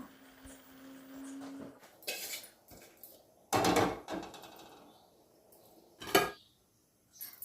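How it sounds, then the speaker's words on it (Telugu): Metal pots clank and scrape against a stovetop in a few separate bangs, with quiet pauses between them, as a pot of cooked cabbage is taken off and another pot is set on. "దించుకొని వేరే గిన్నె స్టవ్ మీద పెట్టుకుందాం"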